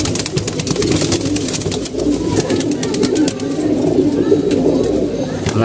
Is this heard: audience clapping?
no